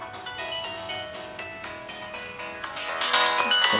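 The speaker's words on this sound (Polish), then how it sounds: "Ktoś się nie bał i zadzwonił." Incoming-call ringtone on a phone out beside beehives during sugar-syrup feeding, a steady melodic tone pattern that rises and grows louder toward the end, with no talking over it.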